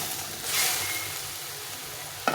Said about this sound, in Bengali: এখন আমি এই মশলার মিশিটা দিয়ে জলটা দিয়ে দিলাম, দিয়ে ভালো করে কষিয়ে নিতে হবে।